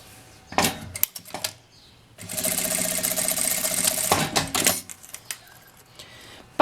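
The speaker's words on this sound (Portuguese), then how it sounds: "aqui eu preciso costurar a abertura do forro que ficou aberto" Sewing machine stitching closed the lining opening of a small rounded coin purse, a close, steady mechanical whirring burst of a couple of seconds between soft handling clicks and rustles.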